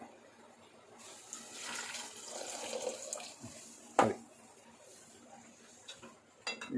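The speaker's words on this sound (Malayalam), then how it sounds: "ശക്കരം വെള്ളം കൂടെ ഒഴിച്ചു കൊടുക്കുക" Jaggery water is poured into orange rasam in a cooking pot, giving a soft liquid splash and trickle with a few sharp clinks of utensils and no talking.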